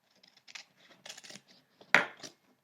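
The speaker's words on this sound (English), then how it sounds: "So I'm going to take my scissors and I'm going to just cut" Scissors cut through paper pages with a few soft snips and then one sharper, louder snip close by, in an otherwise quiet room.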